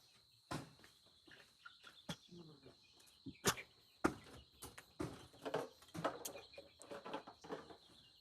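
Many newly hatched chicks chirp in a brooder during a power cut, with a constant high peeping and repeated sharp, close cheeps and rustles throughout.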